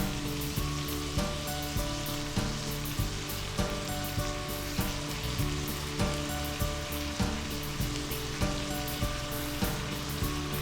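Cabbage hits a hot pan for lumpia filling and sizzles steadily, with crackling fry noise and rhythmic stirring scrapes repeating throughout, close and fairly loud, no talk.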